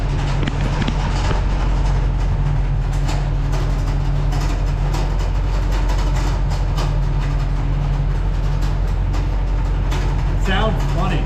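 A 2020 Chevy Silverado 6500 snow plow truck runs its spinner with a chain that needs tightening, giving a loud, continuous low engine drone with a steady mechanical rattle and a voice speaking over it.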